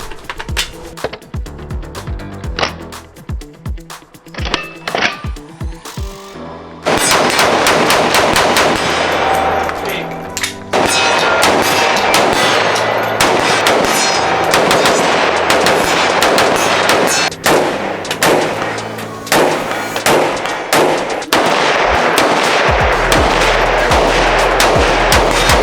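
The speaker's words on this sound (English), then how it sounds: "This is the Dissent Mk47. Basically an AR that takes AK mags." Rapid bursts of gunfire from a CMMG Mk47 Dissent, an AR-style rifle fed from AK magazines, ring out loud and close, with sparse shots early, then sustained rapid fire dominating the rest of the recording.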